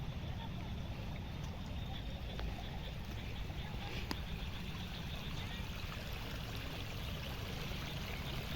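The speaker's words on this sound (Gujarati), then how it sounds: "આ પારા હોહરવું પાણી નીકળે જુઓ." Floodwater rushes out after a heavy downpour in Dhoraji, a steady broadband roar of moving water that stays even and fairly close throughout with no pauses.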